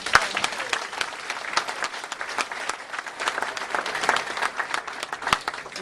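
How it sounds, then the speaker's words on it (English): A crowd at a Millers Run refund event claps steadily in a room, a moderately loud round of applause with crisp individual claps throughout. "So give yourselves a round of applause."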